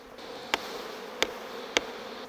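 A honeybee colony in an opened hive gives a faint, steady buzz, broken by three sharp clicks spaced about half a second apart.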